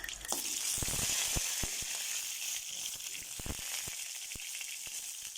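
Mustard seeds hit hot oil for beans poriyal, a close hissing fry dotted with sharp, scattered pops and crackles from the spluttering seeds, fairly quiet overall, with no talking.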